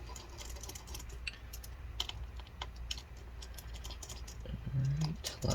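Small screws being backed out of the trackpad on a 15-inch 2018 MacBook Pro A1990, heard as faint scattered ticks and light clicks close by over a low hum, with a brief tonal whine near the end.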